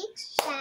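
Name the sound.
hands clapping in a counting game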